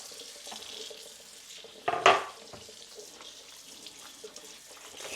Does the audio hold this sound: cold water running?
yes